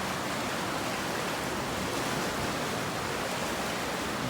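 A river rushes under a bridge in Helen, Georgia, a steady broadband roar of flowing water that stays even and fairly close throughout.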